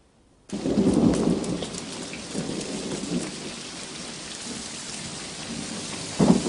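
Steady rain pours during a thunderstorm, with a loud rumble of thunder near the start and another swell at the end, the downpour continuing evenly throughout with no voices.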